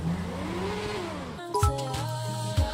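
A motorcycle engine revs up and back down in one smooth sweep, followed by steady, sustained tonal sounds with brief louder bumps, fairly close by.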